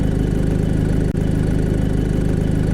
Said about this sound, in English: Sounds like he's driving a diesel.